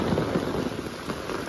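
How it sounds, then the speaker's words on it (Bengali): Heavy rain pours down over open village farmland during a thunderstorm, a dense, steady hiss of drops across a brief moment with no voices. "এই যে বৃষ্টি পড়তেছে"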